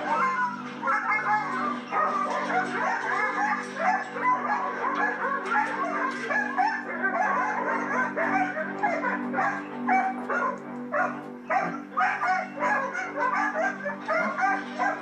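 A Belgian Malinois yips and whimpers in quick repeated bursts at close range, an excited run of short barks and whines that keeps going with hardly a gap, while voices talk faintly in the background.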